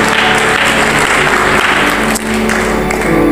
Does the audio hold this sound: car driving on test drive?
no